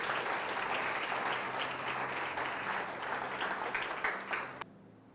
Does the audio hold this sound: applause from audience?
yes